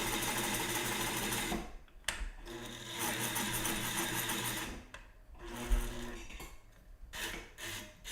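A sewing machine stitches steadily and loudly with a rubbing, rasping mechanical whir, pausing briefly a few times before starting up again.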